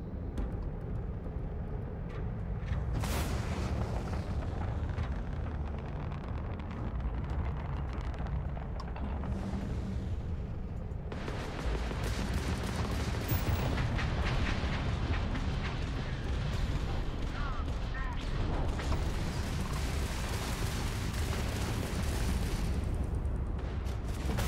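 Sustained rumbling barrage from fast-firing guns in a space combat fight in Starfield, a loud, continuous roar of rapid fire and blasts that swells at several points without letup.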